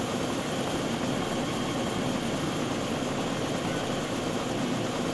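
A small airplane engine in the video game DayZ drones steadily at close range, a dense, unbroken buzzing roar that holds at the same loudness throughout with no voices.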